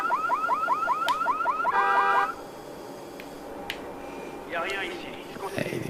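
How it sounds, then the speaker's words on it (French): A repeating electronic warble of rising tones from an alarm triggered in Watch Dogs cycles rapidly for about two seconds, followed by quieter scattered electronic effects and game noises. "Je peux déclencher l'alarme, par exemple."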